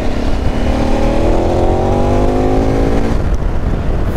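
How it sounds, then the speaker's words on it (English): A loud, close KTM 1290 Super Adventure motorcycle engine revs hard, its pitch climbing steadily for about three seconds before the throttle drops off. "Sounds insane, this bike."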